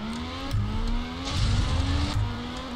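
A race car engine in the video game Track Racing Online drones steadily at a high pitch, with brief surges of revving and whooshes layered on top.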